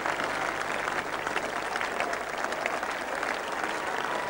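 A large cricket crowd at The Oval applauds England's innings Test victory over Australia in 1985, a steady, dense wash of clapping that carries through the whole stretch without a break.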